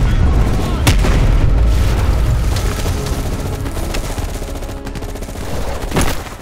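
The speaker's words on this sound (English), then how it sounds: "you woke up in the middle of a firefight" Gunfire and explosions from a firefight against a VC attack in Call of Duty Black Ops Cold War: loud booms and dense volleys of shots rumble continuously, with sharp blasts standing out near the start and end.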